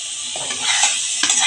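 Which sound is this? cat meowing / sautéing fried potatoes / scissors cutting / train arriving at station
sautéing fried potatoes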